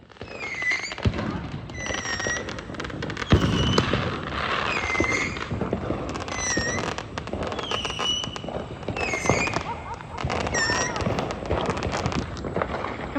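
Fire Striker fireworks go off at a 4th of July celebration, a long string of loud cracking bursts and rising whistles repeating every second or so, with people talking and shouting in the background.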